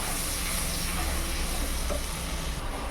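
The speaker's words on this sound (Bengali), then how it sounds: "এবার মশলাটাকে ভালো করে ভেজে নেব।" A spice paste of ginger, chili, cumin, onion and garlic frying in a pan, with salt and turmeric added, giving a dense continuous sizzle and hiss at close range with no talking.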